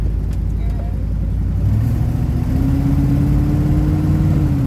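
A car fitted with an Edelbrock carburetor pulls through second gear under gentle throttle, its engine note rising steadily from a low drone to a higher pitch, loud and close, with people talking over it.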